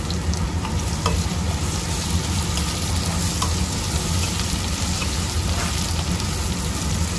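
Chopped garlic and ginger fry in hot oil in a pan for a Bengali desi chicken curry, giving a loud, close, steady sizzle with faint crackles throughout.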